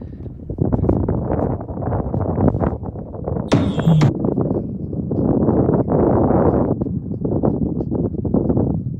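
Gusty wind rushes and buffets the microphone in uneven waves, with a brief high-pitched chirp partway through.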